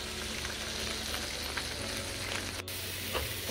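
Sliced okra (bhindi) frying in a pan for a quick bhindi fry curry, a steady close sizzle with faint stirring scrapes throughout and a brief dropout near the end.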